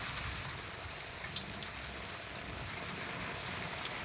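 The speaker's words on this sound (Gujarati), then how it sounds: "પવન ને વરસાદ બે ભૂકા કાઢે અત્યારે મારા ગામમાં." Wind and rain lashing a village during a storm, a faint, constant roaring wash of gusts and falling rain with a couple of small knocks and no speech.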